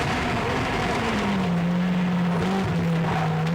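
Onboard engine note of a Caterham Superlight race car at Rockingham in 2001, a steady loud drone that holds a high pitch and shifts slightly as the driver lifts and changes gear.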